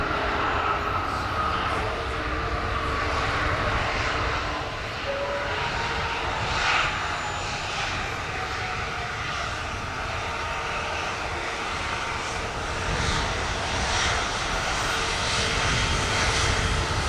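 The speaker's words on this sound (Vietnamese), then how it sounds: "chúng ta sẽ tới với chiếc Airbus A350-900 của Vietnam Airlines với màu sơn của Liên minh hàng không SkyTeam" A Vietnam Airlines Airbus A350-900 in SkyTeam livery at Tan Son Nhat airport, its jet engines giving a loud, sustained broadband roar that stays steady and close throughout, with no voices.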